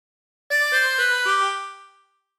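A harmonica plays a meme tune as a short phrase of four clean, rising reedy notes, the last held and fading over about a second and a half, alone with no talking.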